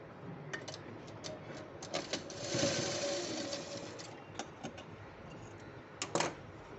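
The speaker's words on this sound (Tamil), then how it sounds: "நான் இதோட உள்ளே போட்டுட்டு தையல் போட்டுடுறேங்க" Sewing machine stitching a fabric band runs in short, quick bursts of fast mechanical clatter separated by brief pauses, heard close and fairly quiet.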